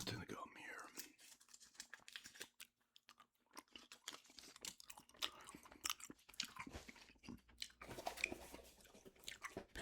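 Gum being chewed close up in a quiet ASMR setting, with soft wet smacking and crunchy bites in an irregular rhythm, accompanied by faint whispering.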